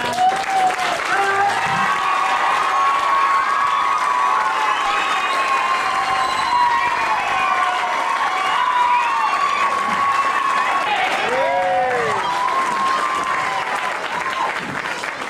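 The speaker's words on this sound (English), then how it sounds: "A big round of applause for" Crowd at the Fitzwilliam Hunt draw in 1996 claps steadily while cheering, whooping and excited shouts, including children's voices, rise over the applause throughout, loud and lively.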